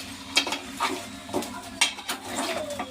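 Goat head and leg curry with turmeric stirred in a metal pot, giving close, irregular scrapes and clinks of a spoon against the pan over a soft background sizzle, with no voices.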